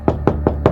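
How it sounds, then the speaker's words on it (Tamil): Four firm knocks rap on a door at an even, unhurried pace, each one close and distinct with quiet between them. "இரு யாரோ கதவு தட்டுறாங்க"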